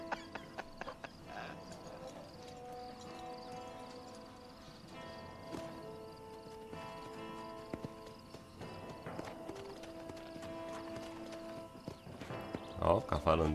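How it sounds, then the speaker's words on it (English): A horse walking in Red Dead Redemption, hooves clip-clopping in a steady, close rhythm under a voice speaking over game music, with a brief burst of louder clatter at the end. "o cavalo andando bem"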